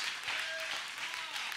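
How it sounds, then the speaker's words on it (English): Church congregation clapping for married couples, a steady wash of applause from the crowd filling the room, with no voices standing out above it. "Come on, clap for those spouses."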